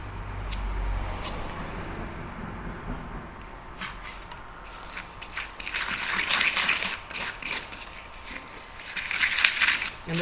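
Mosaic grout being mixed with water: wet scraping and squelching strokes up close, quiet at first, then growing louder and more vigorous in irregular bursts.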